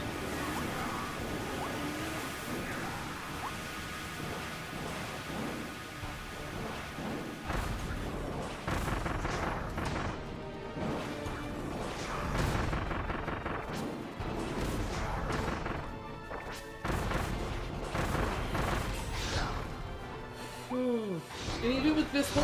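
Bombs going off in a boss fight in Kirby and the Forgotten Land, with dense booming and crashing bursts over busy game music and effects, loud and continuous throughout.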